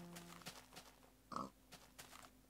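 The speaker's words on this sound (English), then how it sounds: "Come on, piggies." Pigs oinking in a video game, several short grunts scattered through the moment with one louder squeal near the middle, over faint background game sounds.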